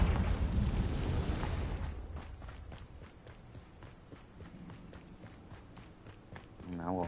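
A Confringo blasting spell in Hogwarts Legacy erupts as a loud, dense burst lasting about two seconds. It is followed by quieter, regular thudding steps and a faint tonal flourish at the very end.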